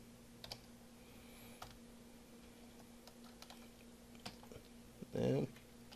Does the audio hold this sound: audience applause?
no